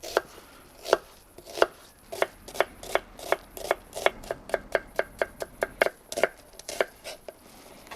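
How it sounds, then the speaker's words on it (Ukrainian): Steady, brisk knife chops on a cutting board as an onion is sliced for soup, evenly spaced and speeding up slightly, close up with no voices. "а я тим часом нарізаю цибулю."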